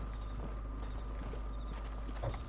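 Rhythmic hoofbeats of a horse in Red Dead Redemption clip-clopping at a steady pace, faint against a constant background hum.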